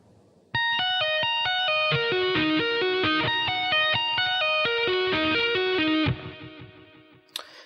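Distorted electric guitar plays a fast tapped phrase with pull-offs, rapid even notes ringing clearly and alone for about five seconds before fading out.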